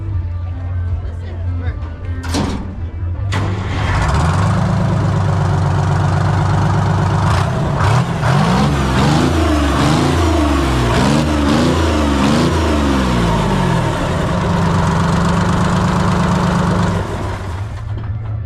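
A diesel car engine cranks and catches, then idles with a steady low rumble and a few revs, while people talk and cheer nearby at a car show.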